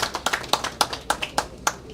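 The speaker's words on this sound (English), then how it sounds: "just give RAUL a little clap on his way for a job well done" Small audience at a memorial gathering clapping lightly, a sparse run of distinct individual claps in loose rhythm, fairly close and brief.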